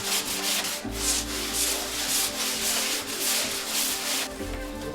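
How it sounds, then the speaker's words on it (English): Steady, raspy sanding strokes rub back and forth across a rigid foam car body, continuous and close, with a slightly rhythmic swish throughout. "Fillers and sanding finish the look of the car."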